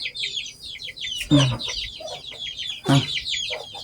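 Several chickens in a small rural-style coop cluck in short repeated bursts, with two louder squawking calls standing out above the steady chatter of the flock.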